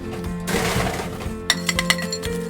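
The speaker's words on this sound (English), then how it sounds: "So you're just going to put some ice in a pint glass." Ice cubes drop into a pint glass at a home bartending practice station, first a rattling pour, then several sharp separate clinks of ice against glass, close and bright, with no voices.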